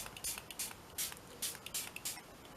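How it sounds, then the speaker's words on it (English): A spray bottle mists water onto a mixed media collage in a series of short, quiet bursts, about eight spritzes in an uneven rhythm, close by and alone. "I'm going to spray a little bit of water on this."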